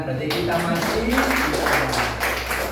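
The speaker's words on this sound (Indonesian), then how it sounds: "Tepuk tangan" Sixth-grade schoolchildren in a classroom at SDN 1 Padenganploso clap their hands, a brisk patter of many hands running beneath a teacher's voice speaking clearly over it.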